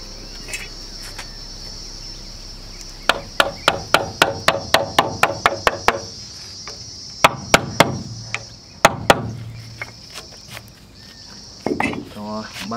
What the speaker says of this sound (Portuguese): Pega o formão pra terminar.